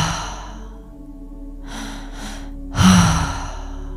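Active breathing during a breathwork exercise: a few forceful breaths, two quick inhales followed by a louder, longer exhale close to the microphone, over a soft sustained musical drone.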